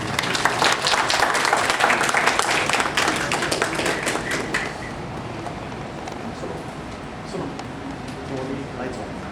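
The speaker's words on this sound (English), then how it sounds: "So we could give him a round of applause." Seminar audience applauding a presenter at a property tax CPD event, loud dense clapping for about five seconds that fades into quieter room noise and murmuring.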